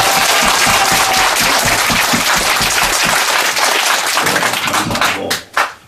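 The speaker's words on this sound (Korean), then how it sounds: "다시 한번 박수 치겠습니다." A congregation claps loudly and steadily at the opening service of a prayer house on Dobongsan, a dense burst of applause that fades out near the end.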